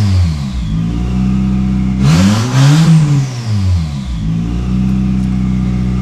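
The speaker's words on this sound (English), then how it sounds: "Ooh, now we got turbo noises." A car engine revs hard, climbing and falling in pitch with a burst of turbo whoosh and hiss at the peak before settling back to a steady drone, loud and close.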